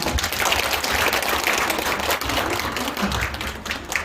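An audience at an evening lifelong-education forum gives a dense, continuous round of applause, steady and full throughout.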